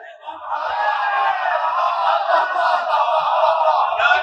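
Congregation at a majlis in Masjid-e-Iranian, Mumbai, chanting Naara-e-Haidari and reciting durood together, a loud, sustained massed chant of many voices.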